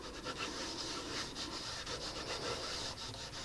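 Ink is rubbed by hand over an embossing plate for cold embossing in scrapbooking, giving a steady, close scratchy rubbing with repeated strokes throughout and no talk.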